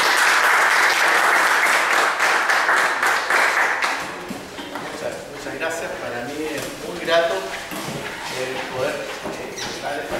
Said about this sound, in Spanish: los dejo con un tremendo aplauso al señor Patricio